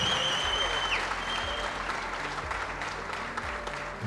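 An audience at an Ethiopian film premiere claps in sustained, dense applause that fills the room, with faint voices mixed in.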